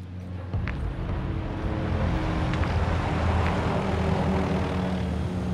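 Aircraft engine drone in Call of Duty: Modern Warfare II, a steady low rumble that swells slightly as it passes overhead, loud and continuous with no talk.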